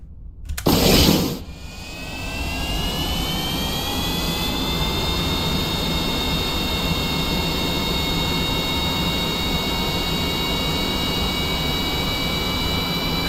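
In Kerbal Space Program, a B-52 jet carrying an X-15 under its right wing roars steadily, a loud continuous jet engine rush that follows a brief sharp burst at the start and holds without talk.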